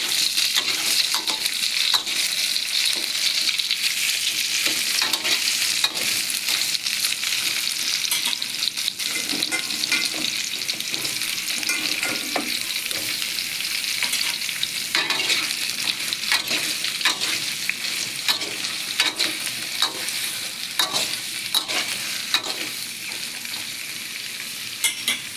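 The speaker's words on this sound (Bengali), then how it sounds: "ঝিঙেগুলো এখন ছেড়ে দিচ্ছি। একটু নাড়াচাড়া করে নিব।" Ridge gourd frying in a pan while being stirred, a steady close sizzle running the whole time with scraping stir strokes and occasional light clinks against the pan.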